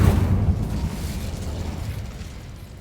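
An Incendio fire spell cast in Hogwarts Legacy bursts with a heavy, booming whoosh that rumbles loudly at first and then fades out over a couple of seconds.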